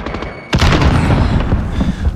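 A grenade blast in Call of Duty Modern Warfare hits with a sudden loud boom partway through, followed by a dense stretch of gunfire and rumbling battle noise.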